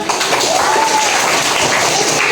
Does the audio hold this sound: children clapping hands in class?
yes